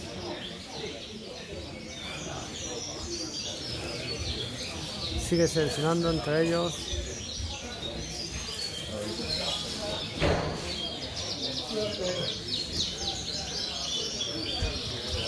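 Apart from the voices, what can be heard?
pigeons cooing at a pigeon show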